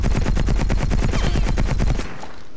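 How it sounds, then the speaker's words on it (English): Rapid automatic gunfire in the cartoon shooter Battlefield Heroes, a steady rattling burst of closely spaced shots for about two seconds, loud and up front, then it stops abruptly. "constantly keep firing!"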